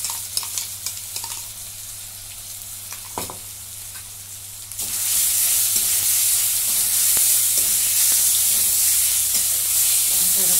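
Ginger, garlic and chilli paste sizzles and fries in a hot pan with a pinch of asafoetida, light stirring clicks at first, then a loud, steady sizzle swells and holds, close and continuous.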